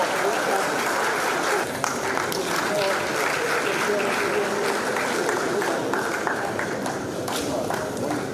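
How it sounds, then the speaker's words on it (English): A crowd at a commissioners' swearing-in ceremony in Akwa Ibom claps steadily as an official steps forward, a dense, continuous applause with voices and cheering mixed in. "Please put our hands together as he comes forward."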